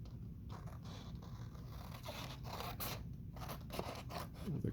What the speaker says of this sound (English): this corner is much too long, so I'm going to cut some of this away in a nice pleasing edge